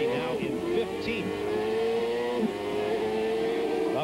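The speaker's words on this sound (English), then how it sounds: "Up front, the revs come up." Several CART race car engines rev at a 1997 oval race at Gateway, a dense, steady high-pitched drone with rising and falling pitch that fills the whole stretch, loud and near.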